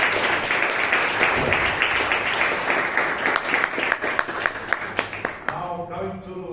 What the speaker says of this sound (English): Give a big round of applause for that.